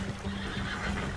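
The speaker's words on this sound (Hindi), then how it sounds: "मेरा घोड़ा गिर गया।" A horse in Red Dead Redemption 2 whinnies after falling, a steady close neigh lasting about a second with no talk over it.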